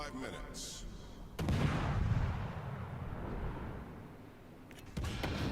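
Heavy ship guns firing in a naval battle video game, two deep booming salvos spaced several seconds apart under low rumbling game noise, with someone talking throughout.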